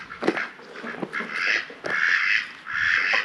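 Black ducks on a farm in Spain quacking close by in a run of four or five raspy calls, some clipped and some drawn out, with no voices.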